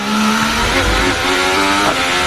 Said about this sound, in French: pendant que Sébastien Vettel finit son tour de qualif, même si on l'entend très mal